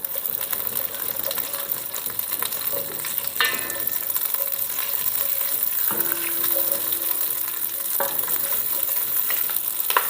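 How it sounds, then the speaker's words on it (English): Garlic and red pepper flakes sizzle in oil for a homemade marinara sauce, with steady close frying hiss and a few scraping stirs of a spoon in the pan, no voices. "And I give this a stir."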